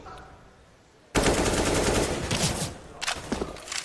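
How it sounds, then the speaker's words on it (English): Sustained spray of automatic rifle fire in the shooter game CS:GO during a pro match, bursting in abruptly after a quiet moment and staying loud and dense with short extra shot clusters near the end. "Unfortunately, it won't for the second as Sergey sprays in."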